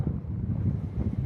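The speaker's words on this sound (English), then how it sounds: "it's windy" Wind gusting across a microphone on a walking track through woods, a low, steady rumbling buffet with no voices.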